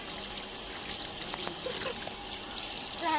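Water running and splashing while rohu fish is washed, a steady broadband wash with brief drips and small splashes, fairly close and moderately loud, with no one talking.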